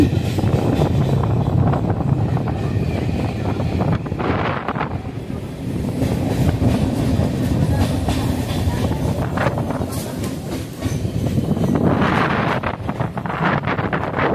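Budge Budge local train running between Lake Gardens and Tollygunge stations on a line under repair, with loud continuous rumbling of carriages, rattling wheels and heavy wind buffeting the microphone from inside.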